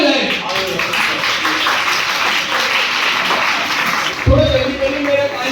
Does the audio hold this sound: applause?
yes